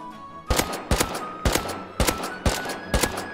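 Gunfire in the survival game Rust: six sharp, loud shots in an irregular rhythm, each a sudden broadband crack that rings out briefly, with no voices over the firing.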